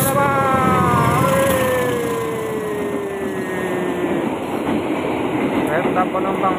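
Passenger train in Indonesia passing close by, its long horn or whistle tone sliding downward over a steady rumbling roll of wheels on rails, loud throughout.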